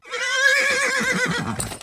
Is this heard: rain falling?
no